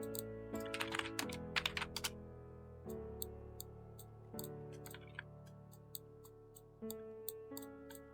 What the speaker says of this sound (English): press Q on the keyboard